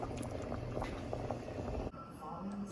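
Pasta boiling in a pot of water on the stove, a steady close bubbling and churning that runs continuously, with a brief dip near the end where it briefly quiets before resuming.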